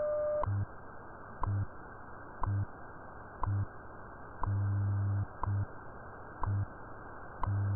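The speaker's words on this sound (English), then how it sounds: "At the tone, 5 hours, 24 minutes, coordinated universal time." A shortwave radio time signal station sends steady one-second tick pulses, with one longer tone near the end, against a constant background hiss and hum, ahead of a coordinated universal time announcement.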